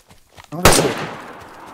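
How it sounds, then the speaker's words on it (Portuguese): A single loud gunshot rings out in the DayZ video game, sharp and close, with a decaying tail and faint speech-like sounds just before it. "Tô atirando, eu vi o vulto, tô atirando."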